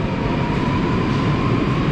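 A Moscow Metro train rumbles loudly and steadily, a dense low roar with a faint whine riding on top.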